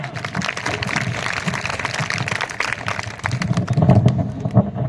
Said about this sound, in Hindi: करतल ध्वनि के साथ तीनों महान हस्तियों का स्वागत कीजिए